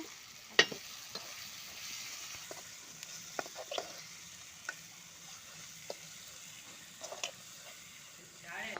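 Bitter gourd (kakarakaya) curry frying in a pan, with a soft steady sizzle under scattered scraping and clinking of a spoon stirring, plus a few sharp ticks close by.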